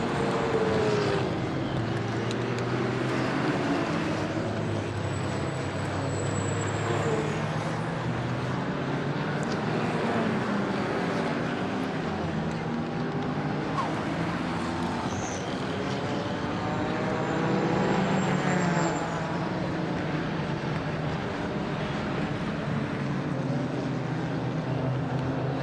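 Race cars at Brands Hatch circuit, a number 18 Porsche among them, passing as a broad continuous roar with engine notes swelling and fading, moderately distant, under faint commentary.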